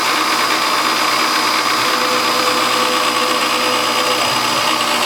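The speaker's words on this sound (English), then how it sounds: "So it's the drawbar, rattling away." A milling machine spindle runs with its drawbar rattling inside, a loud continuous mechanical whir and buzz with a steady rattly texture throughout and no talking.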